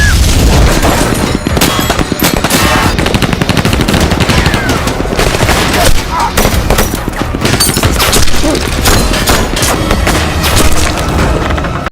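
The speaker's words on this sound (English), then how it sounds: "a band of insurgents ambush the convoy with gunfire" Sustained automatic gunfire and bursts of shots during an insurgent ambush on a military convoy in an action film, loud and continuous for the whole stretch, with occasional booms and dense crackling volleys.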